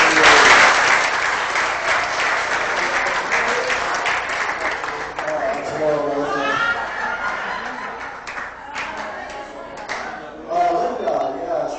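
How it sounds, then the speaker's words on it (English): A room of relatives at a family reunion gives a loud round of applause that gradually thins out, with voices chatting over the fading clapping. "Round of applause."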